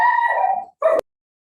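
A dog howls loudly and close in a long wavering call, then after a short pause gives a brief bark-like yelp during an online class, with no talk over it.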